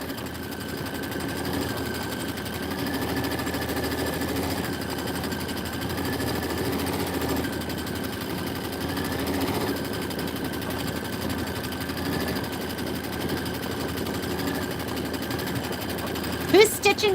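An embroidery machine stitches a winter design of tundra rose and pine trees, running in a steady, even mechanical whir with a faint rhythmic hum and a brief clatter near the end.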